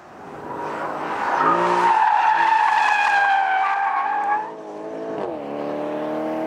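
A 2013 Porsche Panamera GTS launches hard from a standstill, tires squealing loudly over a rising engine note that peaks, drops briefly with a shift, then carries on at a steady pitch.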